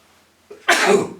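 A single sharp sneeze bursts out after a brief inhaled build-up, loud and close, in an otherwise quiet moment.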